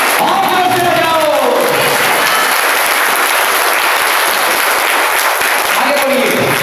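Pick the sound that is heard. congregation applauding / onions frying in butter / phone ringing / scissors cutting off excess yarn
congregation applauding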